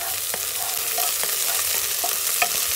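Onions, garlic and ginger fry in a pan for chicken binakol, a constant close sizzle broken by a handful of sharp spatula clacks and scrapes as they are stirred, with no talking.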